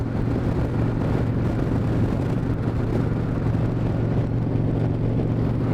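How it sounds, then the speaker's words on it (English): A 1997 Harley-Davidson Wide Glide with ape hanger bars cruises on the highway, its engine a steady, loud rumble under constant wind noise with no break. "this is Harley-Davidson riding right here, fist in the wind, up in the air on the ape hangers"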